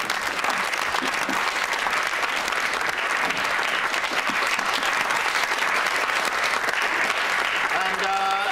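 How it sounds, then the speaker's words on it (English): Sustained applause from an audience at a school gathering, dense and steady clapping for the full length, with brief murmurs and a voice starting to speak near the end. "Round of applause for Dale"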